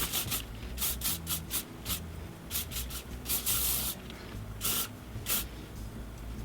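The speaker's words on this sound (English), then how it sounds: "Use Hairspray." Hairspray aerosol misted over sleek, pin-straight short hair in repeated short hissing bursts, close and fairly quiet, with no talk.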